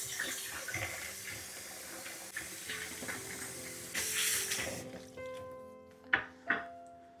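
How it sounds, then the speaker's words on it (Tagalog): Running tap water splashing as fresh onions and garlic are rinsed at a sink, a steady low flow with a couple of sharp clatters near the end. "tapos na natin hugasan yung ating fresh onion and fresh garlic"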